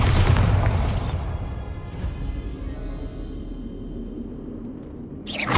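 A Bombarda spell blast in Hogwarts Legacy, a loud booming explosion that rumbles and slowly fades, followed by a second burst starting at the very end.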